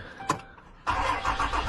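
A 2011 Dodge Ram truck engine cranks and catches with a freshly programmed Chrysler key: a brief starter whir, a pause, then the engine bursts into a loud, steady idle close by.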